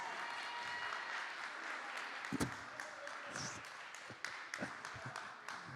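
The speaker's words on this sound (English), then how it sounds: "round of applause" A youth group audience gives a quiet round of applause after a video, scattered clapping with a few louder claps and crowd murmur, fairly faint and distant.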